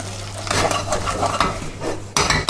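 A utensil scrapes and stirs thick choux-style flour paste drying out in a saucepan over heat, giving repeated close, rhythmic scraping strokes with a faint sizzle underneath and a louder clatter near the end.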